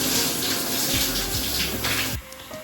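Shower water runs steadily at home after a cruise ship contract, a dense, broadband hiss of spray that holds for about two seconds and then cuts off abruptly, leaving quieter dripping and small trickles.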